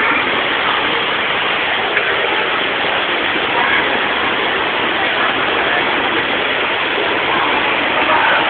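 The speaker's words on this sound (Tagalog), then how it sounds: "Ay, waterfall." A waterfall roars as a dense, steady broadband rush of water, continuous and loud without breaks throughout.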